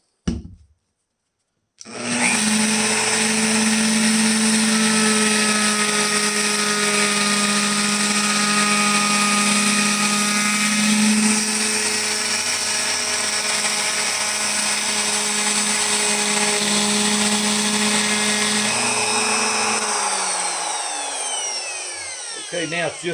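A handheld router cuts a 1/8 radius around the neck pocket of a solid-body cutaway guitar, a steady loud high-pitched whine. It spins up after a short pause, holds for about twenty seconds, then winds down at the end.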